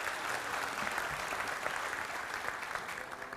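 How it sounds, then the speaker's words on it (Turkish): Steady applause from an audience at a stand-up comedy show in an internet summit setting, a dense continuous patter of many hands clapping at moderate volume throughout with no talk over it. "kocaman bir alkış alalım"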